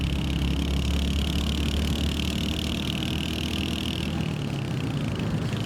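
A Royal Enfield Hunter 350 motorcycle is ridden in fifth gear at about 6000 rpm, producing a loud, steady engine drone mixed with rushing wind noise that runs continuously with no break or change in pitch.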